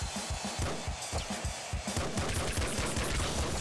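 Rapid gunfire in the top-down shooter Nuclear Throne, a dense, continuous stream of loud shots with fast overlapping bursts and no speech.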